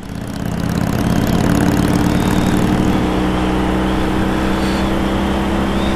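A 2009 Harley-Davidson Heritage Softail Classic motorcycle idles nearby, a steady low throbbing engine note that rises in the first moments and then holds even and loud for several seconds, with no voices.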